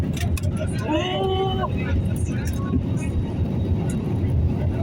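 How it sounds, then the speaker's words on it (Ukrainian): An airliner accelerates down the runway and lifts off, heard from inside the cabin as a steady, loud broadband roar that holds for the whole stretch, with a few brief tonal whines rising above it. "Ось набираємо вже скорість і зараз злетимо."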